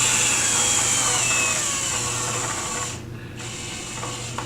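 A power driver tightens a quick release clamp during a segmented woodturning glue-up, giving a continuous mechanical whir with a faint low hum that cuts out briefly near the end, then resumes.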